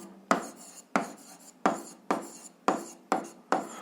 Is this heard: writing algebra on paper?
yes